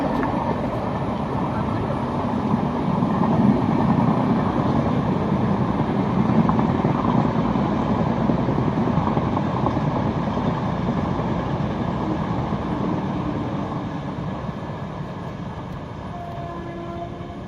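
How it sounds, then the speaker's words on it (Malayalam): A train rolling past close to Bekal station on the coast, a loud continuous rumble and rattle of wheels that holds steady and then eases slightly. "ഇപ്പോൾ ഇവിടെ ട്രെയിൻ വരുന്നുണ്ട്, തൊട്ടടുത്താണ് സ്റ്റേഷൻ."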